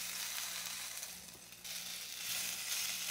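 Pork loin filet seasoned with Traeger pork and poultry dry rub sizzles steadily in an air fryer basket while being turned over, a continuous close hiss with a brief dip partway through.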